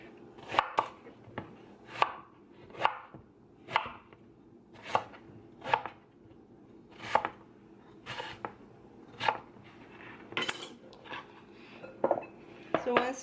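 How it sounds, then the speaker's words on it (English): A knife chops eggplant on a cutting board in about fifteen sharp, evenly spaced thuds that come one at a time at a steady pace. It sounds close and clear over a quiet background, with faint talk in places. "So once you have all the eggplant chopped"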